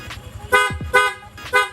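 Three short, harsh beeps from an underpowered aftermarket motorcycle loud horn sound over the idling engine, each one thin and labored rather than full.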